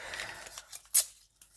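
Scissors snip through a sheet of paper that has ink on it, a single sharp, close cut standing out after faint rustling and soft handling noises.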